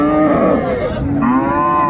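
A single loud, deep moo from a cow with her calf at a cattle market, close and sustained, with almost no talk around it.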